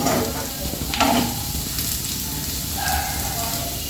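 Onions and egg fry in a hot pan while being stirred continuously, giving a steady broadband sizzle with occasional scraping stir strokes, loud and close, with a person talking over it.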